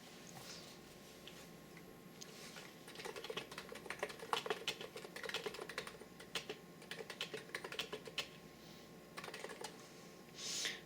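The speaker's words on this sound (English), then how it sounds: "let me type a few things" Fingers type on a Niz Plum Atom 68 mechanical keyboard, a fast, quiet, dampened patter of keystrokes in uneven bursts, close and alone.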